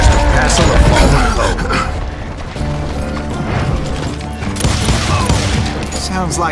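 Rapid bursts of gunfire and clattering impacts fill a loud, busy Call of Juarez: Gunslinger scene, with a voice speaking over the action.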